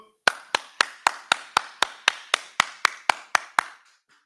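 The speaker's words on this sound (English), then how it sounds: "All right, clap it up." A dozen sharp hand claps in a steady, even rhythm, loud and close, with no talking over them, at a religious gathering in San Antonio.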